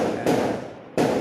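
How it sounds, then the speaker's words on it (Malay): Firecrackers and fireworks bursting outdoors at night during Eid al-Fitr eve celebrations, heard as two loud sustained crackling bursts separated by a quieter gap, with no voices. "Saya tak sangka pula terlalu meriah kat sini main mercun."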